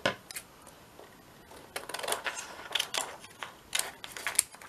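Scissors cut through a clear acetate sheet in a run of quick, crisp snips close by. The cuts are irregular and grow denser toward the end, with no talking.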